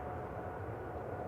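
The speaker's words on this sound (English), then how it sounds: "No, that was a plane going past." A fixed-wing airplane passes near Manchester Airport, heard as a steady, muffled low roar that stays even throughout, fairly faint and distant with no voices.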